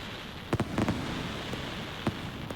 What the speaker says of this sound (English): So North, if you're gonna make firecrackers, then please use these sounds. Like, it's so incredibly heavy.